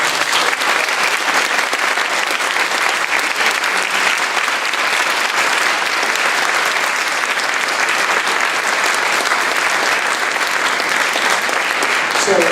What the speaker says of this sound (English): Let's give a final round of applause.